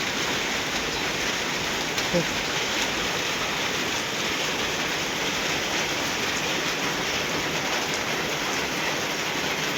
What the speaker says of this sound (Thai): ขายเครื่องแบบบ่ได้ขายแล้วฝนตกแบบนี้